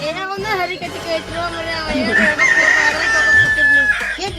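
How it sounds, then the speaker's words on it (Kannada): A hen clucks and crows in short, repeated bursts, loudest near the middle, mixed in with ongoing conversational voices close by. "ನಿಮ್ ಕೋಳಿ ಏನು ಕೊಕ್ಕೊಂತಾವ್ಲೆ"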